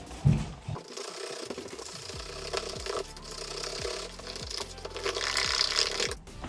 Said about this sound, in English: We're gonna mix them eggs in. Mix them in real good.